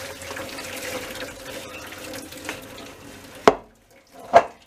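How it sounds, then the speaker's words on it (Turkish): Soaked dried beans for a Turkish diner-style bean stew being drained of their leftover water, with a soft trickle and splash followed by two louder sloshing pours near the end. "Kalan suyu süzdük"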